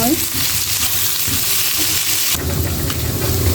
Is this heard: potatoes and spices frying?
yes